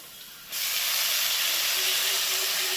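Ivy gourd leaves drop into a pan of potatoes frying in oil with turmeric and salt. A loud, sudden burst of sizzling hiss starts after a quiet half-second and stays strong and steady.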